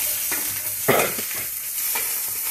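Onions frying in oil over medium flame, with broadband sizzling and a few soft stirring scrapes and bumps as the pieces are turned; steady and close, with no talking.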